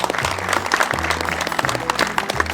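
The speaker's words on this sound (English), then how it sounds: "Round of applause for the anglers." An audience applauds the anglers at a fly fishing championship, with steady dense clapping throughout, loud and close, over a low rhythmic thump of background music.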